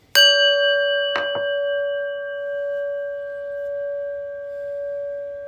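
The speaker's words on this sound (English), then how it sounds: "we shift gears by ringing a prayer bell" A prayer bell is struck once, then touched again about a second later, and its clear metallic tone rings on, slowly fading and wavering over several seconds in a quiet room.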